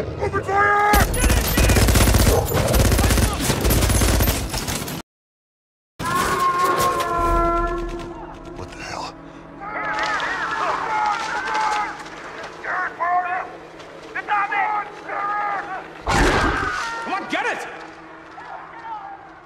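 Bursts of automatic gunfire aimed at a giant wolf during a movie action scene, loud and dense at first, then a brief silence followed by more scattered shots mixed with shouted voices and a heavy impact.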